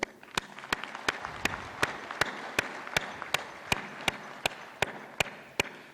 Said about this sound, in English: I think each one of you deserves an applause